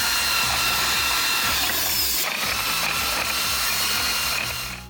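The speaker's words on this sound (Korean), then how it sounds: "드릴로 청소할 때 빠르게 하려면 드릴을 뺄 때도 버튼을 계속 누르고 있어야 잘 빠집니다." A power drill whirs loudly and steadily while cleaning equipment at a tropical fish farm in Thailand, its tone wavering slightly as it works before winding down at the end.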